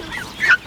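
A goose gives a single close, loud honk on a farm, a short nasal call alone after a fainter lead-in, with no talking.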